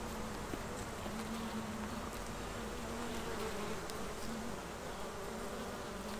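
A dense, steady buzzing of many honeybees close by at an open hive, a continuous drone with a few individual bees whining past.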